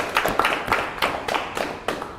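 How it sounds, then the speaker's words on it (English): An audience at an online university impact contest finale applauds, a handful of separate sharp claps spaced roughly a quarter second apart, close and moderately loud, sounding like a small group or single person rather than a large crowd. "Big round of applause for all of you guys."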